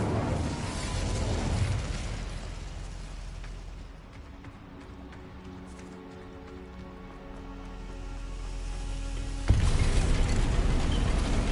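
Incendio fire spell cast in Hogwarts Legacy, a loud roaring burst of flame that fades into a quieter rumble with lingering tones, then a second sudden, forceful blast near the end.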